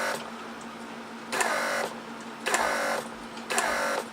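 Door lock pump on a 1999 Mercedes S320 cycling the locks, three short buzzing whirs of about half a second each with quiet pauses between, close up in a quiet setting with a steady low hum underneath.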